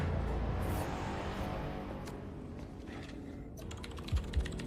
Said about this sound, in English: I can't wait for this typing